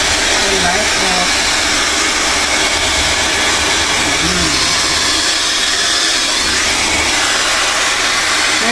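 A Laifen SE Lite high-speed hair dryer runs close and loud in a steady, unbroken airy whoosh with a faint motor whine underneath, holding its level throughout.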